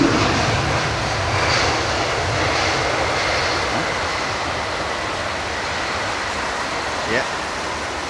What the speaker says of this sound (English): Watch these engines,